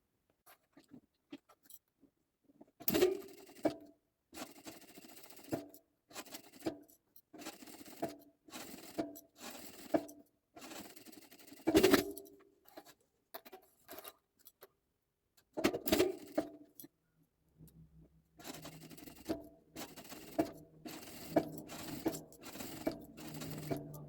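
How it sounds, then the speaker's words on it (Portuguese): A sewing machine stitches bias binding folded over a fabric edge on a Bible cover, running in short irregular bursts separated by quiet pauses, close by and with no talking. "você só dobra o viés ao meio, prende com esses grampinhos e passa uma costura aqui bem na bordinha"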